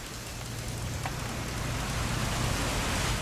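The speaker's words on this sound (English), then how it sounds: "It's gonna rain the whole weekend" Steady rain in the video game What Remains of Edith Finch, a constant dense hiss of falling drops with a low hum underneath and one faint click.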